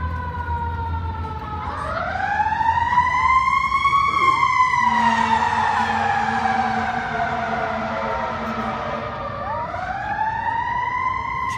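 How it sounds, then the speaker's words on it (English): A fire engine siren wails loudly and steadily, rising and falling in pitch as the truck rumbles past nearby. "We'll let this other fire engine go by."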